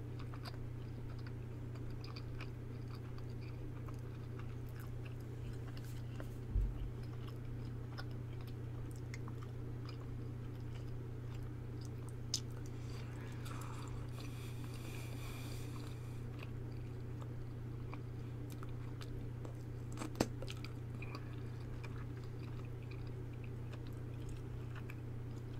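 Gum chewing recorded close up for a mouth-sounds piece: faint, sparse wet clicks and smacks over a steady low background hum, with no talking.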